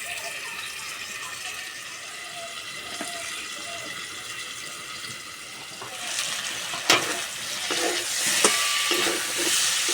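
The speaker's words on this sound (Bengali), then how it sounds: "ঝিঙে ভাজা হয়ে গেছে" Ridge gourd pieces frying on low heat in a pan, with a steady close sizzle and hiss; after about six seconds, louder scraping and clatter from stirring punctuate it. No one speaks.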